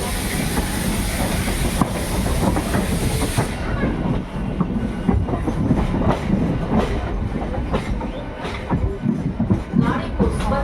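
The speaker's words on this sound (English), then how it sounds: "The train leaves." A passenger train in India runs along the rails with a loud, continuous rumble and rhythmic clickety-clack of wheels over track joints, heard from on board with hissing air throughout.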